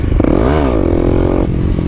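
Kawasaki KLX300 dirt bike with an FMF exhaust revving hard in second gear, engine pitch sweeping up, dipping, then holding a steady high drone before backing off, loud and close.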